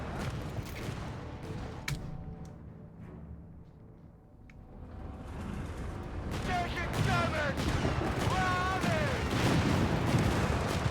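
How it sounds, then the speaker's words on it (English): Shots fired at a StuG D assault gun in Company of Heroes 3, a DAK versus British match, with scattered gunfire bursts and distant battle noise under a commentator's steady talk. "Firing into the Stug D there."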